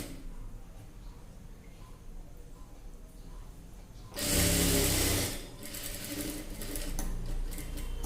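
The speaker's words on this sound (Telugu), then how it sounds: "ఇదిగోండి ఇలా ఫోల్డింగ్ చేసి స్టిచ్చింగ్ చేసుకుందాం." A sewing machine stitching a folded seam on a chudi pant runs in one close, loud burst of about a second after quiet handling, followed by softer rustling of fabric.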